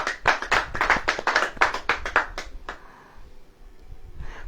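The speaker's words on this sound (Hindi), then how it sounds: "ताली बजा, सोना आने की खुशी में ताली बजा।" A church congregation claps hands in praise, a fast dense burst of many overlapping claps for about three seconds, close and loud, then falling away to quiet room tone.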